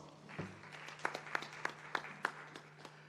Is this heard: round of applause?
yes